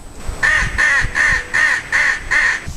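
Crows cawing: six harsh, evenly spaced caws in a steady rhythm, close and clear, with no talking.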